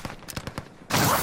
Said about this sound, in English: Oh, people shooting right on you.